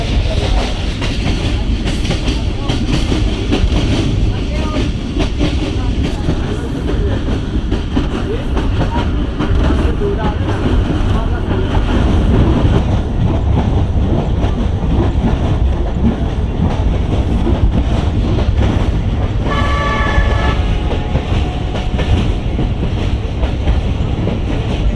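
Millat Express passenger train running on the track through dense trees at moderate speed, a loud continuous rumble with rhythmic wheel clatter from close by and a brief squeal of wheels near the end.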